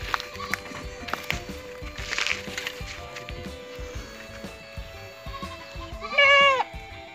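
Goats bleat nearby amid rustling and footsteps, with one loud, wavering bleat standing out near the end.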